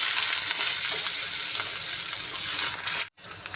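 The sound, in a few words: onion frying in hot oil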